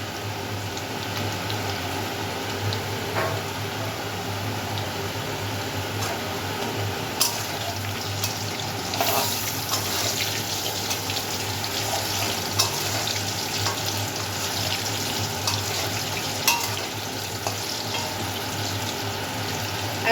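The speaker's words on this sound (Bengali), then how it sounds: "এবার আমি বিরিয়ানির আলুগুলোকে ভেজে নেব।" Potato pieces for mutton biryani fry in hot oil with a continuous close bubbling sizzle and a few sharp utensil clinks and spatters, and no voices are heard.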